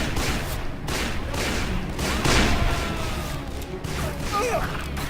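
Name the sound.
gunshots from the video game Call of Juarez: Bound in Blood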